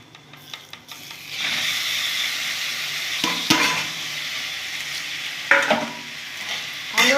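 Pointed gourd (potol) fries in a pan with moong dal over a lowered gas flame, a steady close sizzle and hiss broken by a few scraping stirs and clinks of the utensil against the pan.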